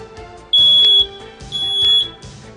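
Smoke detector alarm sounding during a test, loud piercing high-pitched beeps repeating in a regular pattern, close by with no talking.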